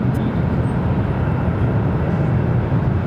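A Delta airliner takes off from runway 7 left at Phoenix Sky Harbor, heard as a steady, loud, low-heavy engine roar that holds evenly across the whole stretch.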